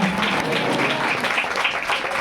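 Church congregation clapping hands together during a Christmas Hindi worship service, a steady dense patter of many hands that fills the space without break.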